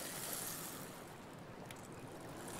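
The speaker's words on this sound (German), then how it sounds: "In einer sternenlosen Nacht treibt ein Schiff dahin." A ship drifts on the open ocean at night as waves wash and surge around it, a steady, broad, windy rush of water at moderate volume.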